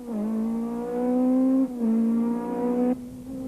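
A Ford rally car races along a gravel road, its engine loud and close, revving high through two long rising pulls broken by a brief gear-change dip, then easing off near the end.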